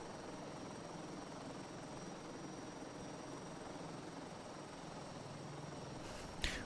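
A helicopter in a flight simulator game drones steadily with a constant rotor and engine hum, faint and unbroken, ending in a short sharp click.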